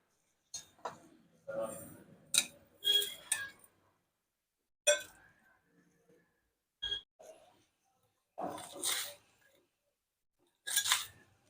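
Chandan batwa leaves are cut for a vegetable dish, with sharp clinking snips and knife taps in separate bursts, some single, some in quick clusters, and quiet gaps between them.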